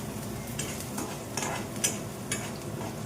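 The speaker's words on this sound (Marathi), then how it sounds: "कांदा लसूण कढीपत्ता टाकून घेतलाय. चांगला आता परतून घेऊया आपण." Onion, garlic and curry leaves sautéing in a pan, a soft continuous sizzle with intermittent scraping stirs of a spoon, close and fairly quiet.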